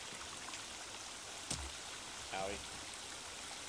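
Steady broadband rush of a waterfall in the survival game The Forest, continuous and fairly loud throughout, with a brief thump and a short spoken exclamation over the water.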